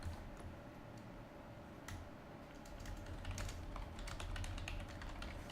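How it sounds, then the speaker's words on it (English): Quiet clicking of a computer keyboard during a PC game session, irregular light keystrokes over a steady low hum of background noise, with no speech. "I'm typing."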